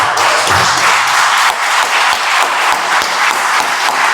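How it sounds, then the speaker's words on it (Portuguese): A church congregation gives a round of applause for Jesus, loud, dense clapping that fills the space steadily, with a few heavier thumps landing underneath. "Podemos dar uma salva de palmas para Jesus?"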